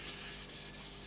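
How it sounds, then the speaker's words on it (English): Fine 600 grit sandpaper rubs over a turned wooden bowl, making a steady close scratchy hiss with a couple of quick strokes. "Now I'm going to give it a quick sand down with a"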